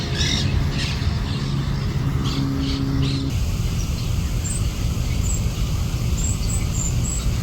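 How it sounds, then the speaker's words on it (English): A bird squawks with short harsh calls near a park fountain beside a marina, mixed with steady splashing water and distant traffic noise throughout. "I got this nicely timed shot of a bird flying from the fountain to a tree."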